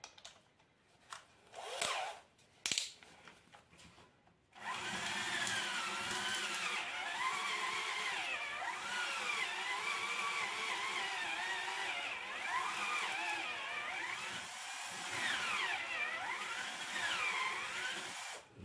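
A cordless power drill runs in reverse backing out screws while a wooden chicken coop is built. A few sharp knocks come first, then a long, steady, close motor whine that rises and dips in pitch as the bit works.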